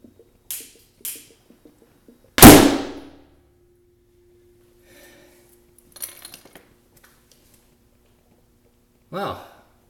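Hydrogen gas ignites inside a new HHO bubbler with one loud, sharp bang and a ringing, decaying tail, preceded by a couple of small clicks and followed by faint scattered knocks and a brief voice.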